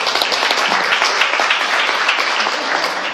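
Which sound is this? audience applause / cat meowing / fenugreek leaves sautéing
audience applause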